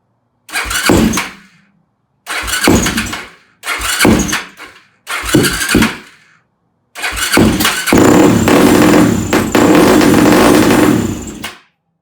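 A Yamaha YFZ450 ATV engine with a lean-running carburetor cranks in four short bursts without catching, then fires and runs steadily for several seconds at close range.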